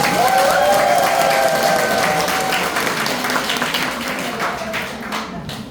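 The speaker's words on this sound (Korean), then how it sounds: "얼마나 재밌었는지 박수 소리로 확인해 볼까요?" A lecture audience at a fire liability insurance talk bursts into loud applause, dense clapping with a few cheers that gradually fades over several seconds.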